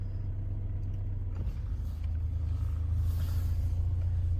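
A car rumbles steadily on the way to a petrol pump in Saudi Arabia, a deep continuous engine drone heard from inside with a slight bump and shift in tone midway.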